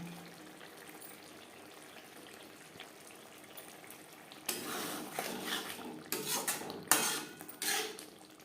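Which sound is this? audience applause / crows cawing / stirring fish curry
stirring fish curry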